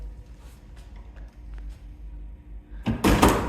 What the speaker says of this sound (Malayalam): Close the door, close the door.